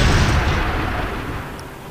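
A big explosion in the video game Shogo gives a loud, close, rumbling blast that fades slowly over under two seconds.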